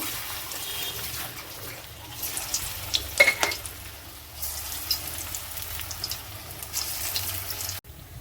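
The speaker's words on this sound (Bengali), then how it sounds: "কড়াইয়ে তেল দিয়েছি, এবার ভেজে নেব" Pieces of chhana (cottage cheese) fry in oil in a wok, giving a low steady sizzle with a few clattering stirs and sharper crackles midway, fairly quiet and close, no voices.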